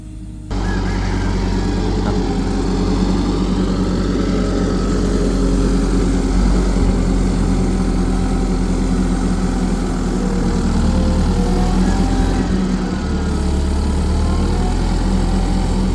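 Wheel loader working loose soil while building a house, its diesel engine droning loud and steady throughout, with surges in revs as it scoops and loads.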